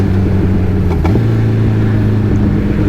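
A motorcycle engine drones steadily at low revs in a low gear while riding slowly at night on New Year's Day, loud and close throughout with a continuous low hum.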